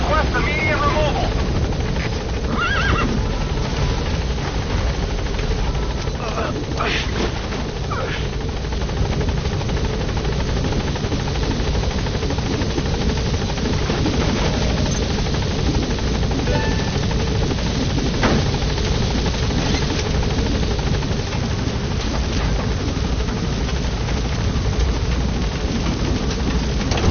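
Pequod, the support helicopter in Metal Gear Solid 5: The Phantom Pain, hovers near a blocked landing zone with a steady, loud rotor and engine roar, overlaid by a radio voice speaking and scattered game effects.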